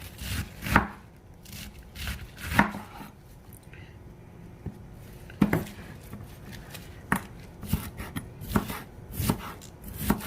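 Knife chopping food for runzas on a cutting board, likely cabbage, in a home kitchen: uneven bursts of sharp thuds, some quick runs of strokes and some single chops, close by with no talking.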